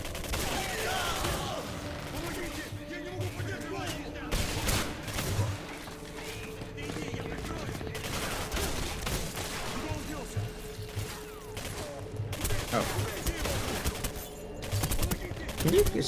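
Sustained gunfire from the shooter game Singularity, dense bursts and rapid automatic volleys with heavy thuds, loud and continuous for the whole stretch, with a voice talking now and then underneath.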